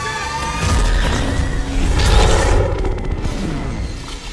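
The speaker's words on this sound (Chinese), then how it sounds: "在猛烈的爆炸过后" A big explosion from the film Iron Man 2 rolls out as a heavy, rumbling boom with crackling debris, loud and sustained for a few seconds before tailing off.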